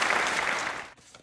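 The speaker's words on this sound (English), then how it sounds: "Give me an applause for that one." A short burst of clapping applause, dense and loud, that tapers off abruptly after about a second.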